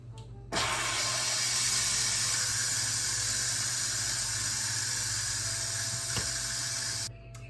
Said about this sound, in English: Okay, steam is released.